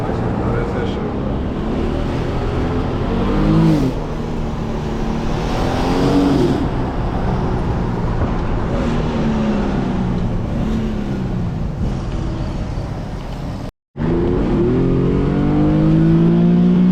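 A tuned Infiniti G37 pulls hard at highway speed, its engine note rising and falling through loud, close revving runs over constant road and wind roar, with a brief cut near the end.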